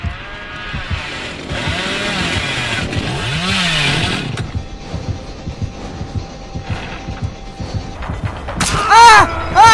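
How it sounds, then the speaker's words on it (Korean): A chainsaw revs loudly in the horror game Dead by Daylight, a whining, sweeping engine roar that fades into a lower rumble, then a sharp rising rev at the end. "깜짝이야 전기톱 썰리는 줄"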